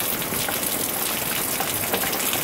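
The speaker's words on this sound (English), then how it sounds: "It's raining, it's pouring" Heavy summer rain pours steadily on a garden, a dense, unbroken hiss that stays at the same loudness throughout, with no voices.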